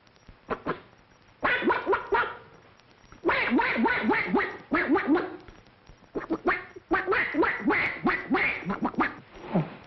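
A voice imitates a duck with a series of rapid nasal quacks in bursts, loud and close, with short pauses between groups.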